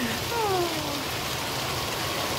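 Rain falls steadily in Bangkok, a dense, even hiss with no clear individual drops, and a brief whistling tone rises over it early on.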